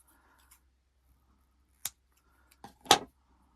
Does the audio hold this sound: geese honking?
no